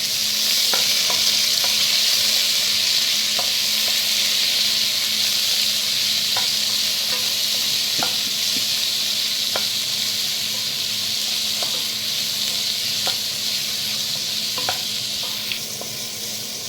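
Medium-cut mushrooms fry in a pan for a mushroom biryani, a loud, steady hiss of sizzling oil with scattered clicks and taps from stirring, close up and continuous, with no talking.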